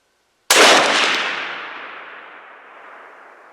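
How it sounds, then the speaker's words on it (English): A single loud muzzleloader rifle shot outdoors on a farm, a sharp crack followed by a long decaying boom that rolls away over about three seconds. "See if I can hold steady enough to shoot one more time."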